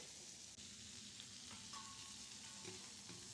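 Vegetables frying in a pan with a spoon of oil for Egyptian-style shrimp fajitas, a steady low sizzle with occasional faint stirring scrapes, quiet and close, no voices.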